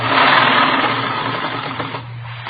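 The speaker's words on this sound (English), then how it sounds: "I've got this sewing to do. You can see that, can't you? 3 more rows of ruffles go on." A sewing machine stitches rows of ruffles with a steady, close, whirring mechanical hum that eases slightly toward the end, with no talk over it.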